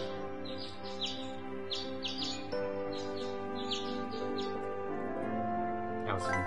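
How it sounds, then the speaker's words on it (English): Bright chirping bird songs from a video game soundtrack, with repeated trills and tweets riding over a sustained melodic music bed, clear and continuous throughout. "Very nice bird songs there"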